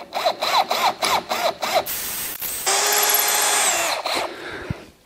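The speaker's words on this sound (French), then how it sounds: "moi ici je vais percer au diamètre 5" Power drill boring a 5 mm hole in wood while making wooden dowels: several short pulsing bursts of whirring, then a longer sustained high whine as the bit runs through, ending with a sharp tap, close and loud without speech.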